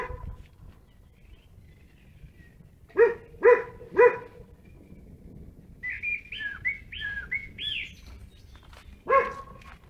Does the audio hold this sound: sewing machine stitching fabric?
no